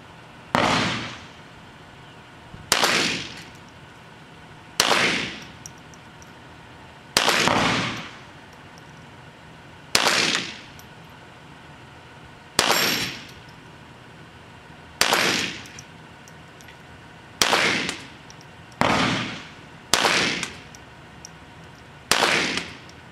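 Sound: gunshots from Smith & Wesson Victory pistol

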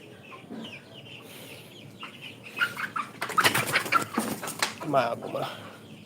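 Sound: Sonali chickens clucking

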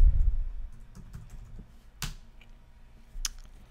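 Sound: typing a password on a computer keyboard

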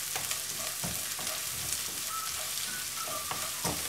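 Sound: chopped onion frying in a pan for rava upma

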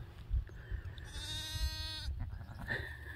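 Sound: lamb bleating

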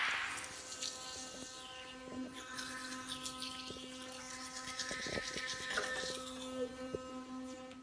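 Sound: brushing teeth with My Magic MD charcoal powder

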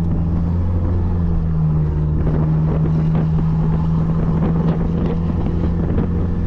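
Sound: turbocharged engine whistle accelerating with straight exhaust

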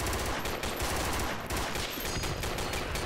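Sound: automatic rifle gunfire in the video game Project Reality 2

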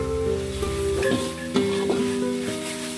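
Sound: stirring sliced spring onion into stir-fried shredded tuna

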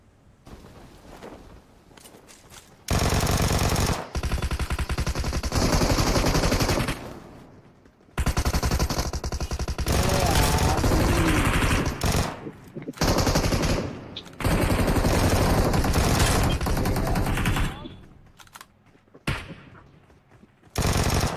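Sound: gunfire in a mobile shooter video game

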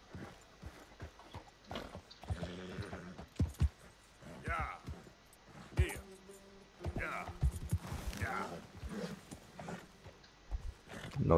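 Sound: horse hooves in video game Red Dead Redemption 2

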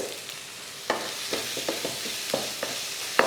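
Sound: sautéing tomato masala gravy in a pan

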